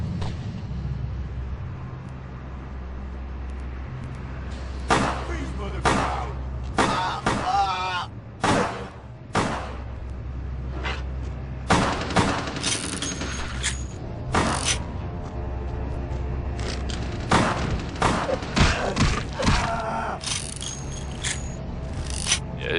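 Gunfire in Vampire the Masquerade: Bloodlines, a series of sharp shots and impacts at irregular intervals over a low game rumble, with someone talking throughout.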